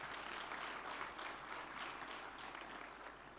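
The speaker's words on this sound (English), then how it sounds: "Can we give another round of applause to CEO Airtel?" Soft, continuous applause from a ceremony audience at the AIMS TTP Teacher Award 2023, a round for the Airtel CEO, heard as an even, distant hiss of many hands with no talking.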